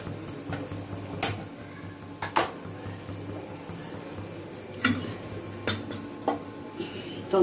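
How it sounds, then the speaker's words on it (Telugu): Bitter gourd fries in a pan with a low, steady sizzle, broken by a handful of sharp scraping strokes as a spoon stirs it at uneven intervals. "పప్పు వేసుకొని కాకరకాయ ఫ్రై చేసుకుందామండి."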